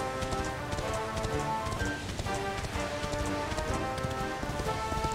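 Continuous clip-clop of horse hooves in Dragon Quest XI over a dense, busy game soundscape with music, steady rhythm, no talking.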